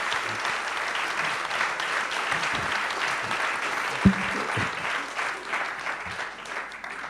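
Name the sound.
audience applause at a conference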